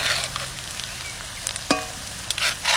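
Ground spice paste hitting hot oil in a pan after whole garam masala and chopped onion in a Bengali village kitchen, giving a steady close sizzle with scattered spatters and clinks of a spoon stirring, no talk.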